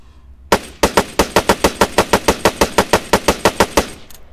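Spar-17 rifle in the Arma 3 video game fired in a rapid burst during a recoil test: about twenty sharp, evenly spaced shots, loud and close, with a brief lull after the first and a short tail at the end.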